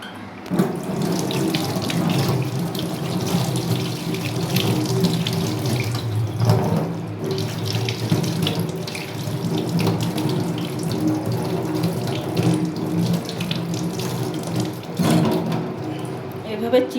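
Food being washed under a running tap in a kitchen sink for a fish dish, a strong steady stream of water splashing close by for the whole stretch, with brief handling knocks.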